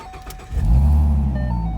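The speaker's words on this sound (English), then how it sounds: "Here, I'll turn on the car real quick." A 2013 Ford Mustang with the 3.7 engine cranks and fires up, a short starter whir giving way to a loud, steady low idle rumble that carries on alone with no talk.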